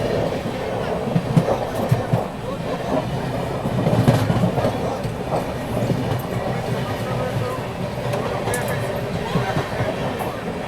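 The Kalinga Utkal Express passes with steady rumbling and wheel clatter over the rails, loud and continuous throughout, with voices talking over it.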